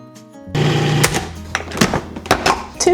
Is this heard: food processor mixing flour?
yes